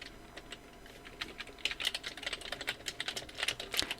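Typing on a computer keyboard while entering text in Photoshop: quick, light key clicks in an uneven rhythm, close and quiet, with no talking.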